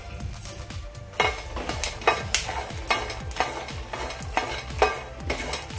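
Garlic and cumin seeds roast in a pan over a medium-low flame, with repeated rhythmic scrapes of a spatula over a soft sizzle, each stir heard up close and without any talking.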